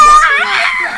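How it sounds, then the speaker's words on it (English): A person screams loudly and shrilly in a single close, sustained cry lasting about a second, with no other sound around it. "What did I say about screaming? It's like so loud."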